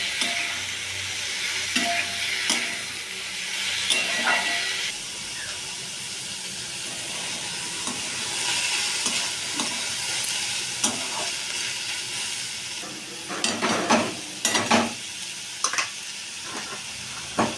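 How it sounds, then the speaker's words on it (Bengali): Pieces of bottle gourd fry and are stirred in a pan, with a steady sizzling hiss throughout and sharp scraping clatters of the spoon, which bunch together toward the end. "তারপর লাউগুলো আমি ভালো করে একটু ফ্রাই করে নেব।"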